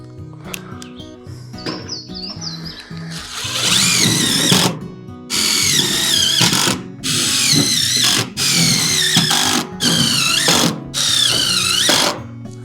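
A power drill drives screws into barn sheeting on a homestead build, its whirring motor running in repeated loud bursts of a second or two with short pauses between, close by, after some quieter handling noise.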